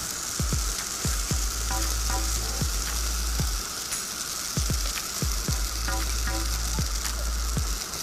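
Plantain waffle batter sizzles steadily as it is poured into a hot waffle iron, a loud continuous crackle with occasional scraping taps from a bowl and utensil.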